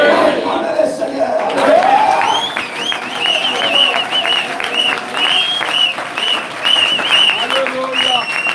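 A church congregation applauding and cheering, dense clapping and crowd voices after a loud shout, with a preacher speaking and chanting over the ongoing applause.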